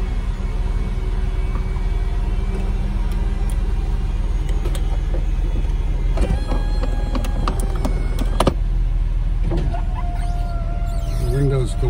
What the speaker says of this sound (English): here's a video of the top going up in my 2001 Porsche Carrera 4